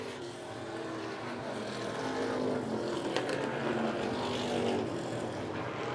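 Race car engine droning steadily at Wiscasset Speedway, a continuous moderately distant roar held at an even, unpushed pace with no talk over it.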